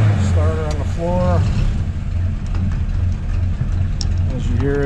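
A 1948 Willys Jeep MB engine starts and idles with a steady low rumble while someone talks briefly over it near the start and end.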